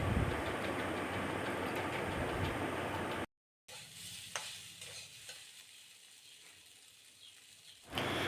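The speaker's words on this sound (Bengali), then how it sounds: "এবার সিদ্ধ করা পাস্তাটা আমি ঢেলে দিলাম, দিয়ে 3-4 মিনিটের মতো আর কি নাড়তে থাকবো, যাতে পাস্তার সঙ্গে মশলাটা মিক্সড হয়ে যায়।" Boiled pasta is stirred in a pan with a spice mixture, a close scraping and sizzling churn that runs loud before a short cut, then continues fainter with a few distinct scrapes and clinks.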